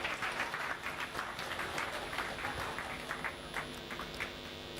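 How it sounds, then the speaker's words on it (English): An audience at a TEDx event at ATLAS SkillTech University claps in a steady, fairly soft round of applause that fills the whole stretch without talk. "a huge round of applause"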